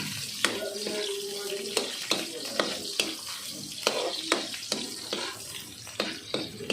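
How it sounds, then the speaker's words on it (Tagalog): Green chilies and onions sautéing in a pan for squid adobo, a quiet sizzle broken by regular sharp scrapes and taps of a spatula, fairly close. "Yan, sabayan natin itong sili at sibuyas."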